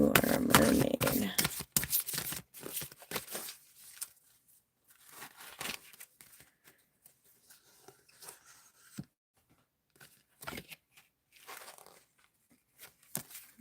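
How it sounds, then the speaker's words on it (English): A deck of oracle cards is shuffled by hand: a dense rustling burst at first, then sparse soft slides, taps and crinkles with quiet gaps between them, close by and faint. "Let me give them another shuffle."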